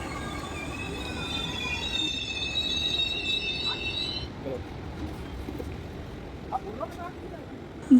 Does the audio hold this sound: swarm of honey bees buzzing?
no